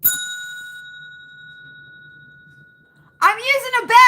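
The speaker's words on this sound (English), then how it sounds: "I'm using a bell instead of the bell" A single bright bell strike rings out at the start and decays slowly over about three seconds, then a voice starts talking once it fades.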